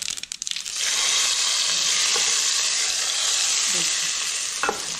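Hot spiced oil tempering hits a pot of bathua pakora kadhi with a sudden splash, then loud, steady crackling and sizzling that gradually settles.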